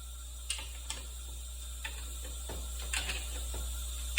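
A speed wrench ratchets around transmission bolts, giving a series of light, close clicks and ticks spread irregularly over a steady low workshop hum, with no talking.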